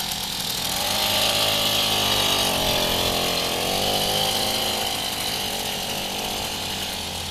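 An Imme R100 motorcycle's two-stroke engine runs steadily, giving a continuous buzzing drone that swells slightly and then holds at an even level, with no talk over it.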